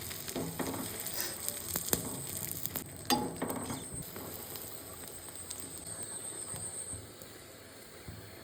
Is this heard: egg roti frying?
yes